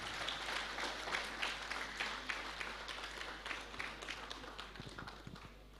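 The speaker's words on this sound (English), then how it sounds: "Kindly welcome him with big round of applause." Sustained applause from a crowd at a national conference of company secretaries, dense clapping filling the room at a steady level with no voices over it.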